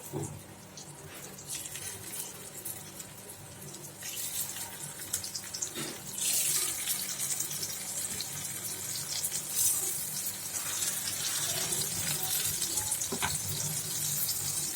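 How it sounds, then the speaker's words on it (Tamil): Bitter gourd slices coated in rice flour sizzle in hot oil in a pan, a steady broadband hiss that grows louder partway through, with no talking over it. "இங்கே ஒரு பேனில் ஆயில் போட்டுருக்கேன். இப்போ நம்மளோட பாவக்காய் மீன் போட்டுடலாம்."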